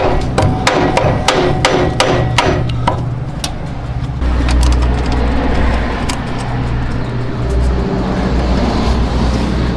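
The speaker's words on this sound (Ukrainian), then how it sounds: "В ремонті радянських мотоциклів без молотка ніяк." Sharp metallic hammer blows on a Soviet Dnepr MT motorcycle part in a quick series of strikes, then a louder engine-like rumble with scattered knocks.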